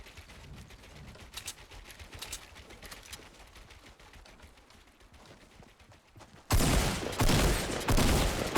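Gunshots in Fortnite: sparse, fairly quiet cracks over a busy game background, then a sudden loud barrage of close shots in the last couple of seconds.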